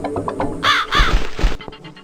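A crow in a horror video game, The Cat Lady, caws loudly twice in quick succession, harsh and close, with faint rustling before and after.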